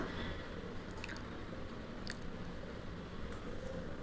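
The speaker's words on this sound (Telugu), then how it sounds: "ఇందులో కొద్దిగా సాల్ట్ వేసుకొని కొద్ది కొద్దిగా వాటర్ వేసుకొని పిండిని మెత్తగా కలుపుకోవాలి బాగా" Wheat flour dough for egg paratha is kneaded by hand as salt and small splashes of water are worked in, producing soft, faint, steady squishing and pressing sounds up close, without speech.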